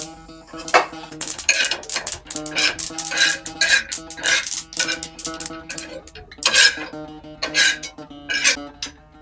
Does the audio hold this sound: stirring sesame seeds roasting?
yes